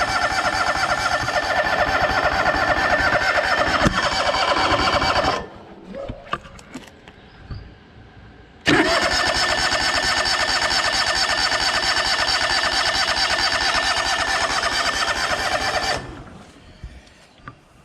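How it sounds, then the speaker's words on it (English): A John Deere LX188 lawn tractor engine cranks and runs loudly, then cuts out into a quiet gap of small clicks and knocks before firing again and running steadily, finally dropping away near the end. "Try again, see what we got. Oh, there we go."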